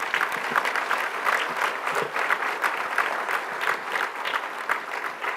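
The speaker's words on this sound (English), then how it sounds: "Just one more round of applause for everybody that won an award tonight" A banquet audience at an awards night applauds award winners, a dense, steady round of clapping from a large crowd that carries evenly from start to finish without talk.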